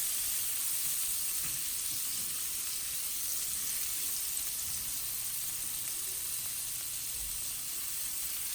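Vegetables fry in bacon drippings in a pan, for Southern-style shrimp and grits: a steady, bright sizzle and hiss holds evenly throughout, with no talking.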